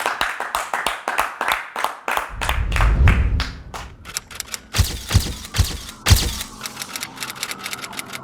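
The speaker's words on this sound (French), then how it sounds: "On l'applaudit." At a business talk event, a small audience claps sparsely in crisp, irregular bursts, with individual claps standing out clearly rather than blending into a full roar.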